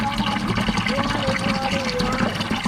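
Water gushes steadily out of a Cat 3412 diesel engine oil filter, a continuous splashing, trickling pour heard up close with no pauses.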